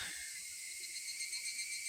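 Steady, dense cicada drone in a video game, a continuous high buzzing chorus that holds evenly and fairly loud for the whole stretch with no talk over it.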